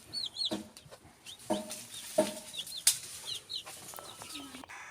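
Baby chickens in their house, which has a bran bedding, give rapid, high, close peeps, broken by short bursts of wing flapping and rustling. There is no talking.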